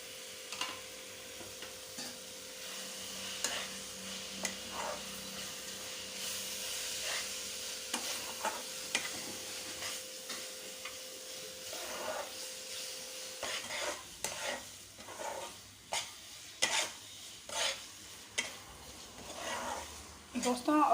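Chicken masala with chilli, cumin and coriander powder sizzles in a pan and is stirred repeatedly. Scraping strokes grow more frequent toward the end, with steady frying hiss beneath, while a person talks.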